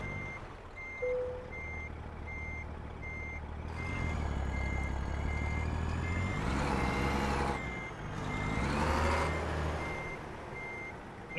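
Truck in American Truck Simulator reversing, its backup alarm beeping in a steady repeating pattern over a loud engine rumble that swells as it moves, no talk.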